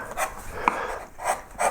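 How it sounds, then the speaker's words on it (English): A flat gouge shaves and levels the wooden background of a Celtic knot carving, making short rasping scrapes in an uneven rhythm, close and moderately quiet, with a single small tap partway through. "I'd be levelling this off with a flat gouge"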